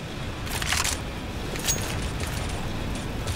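Quick mechanical clicks and clacks from a gun being reloaded in Counter-Strike: GO, two short bursts over a constant background hiss.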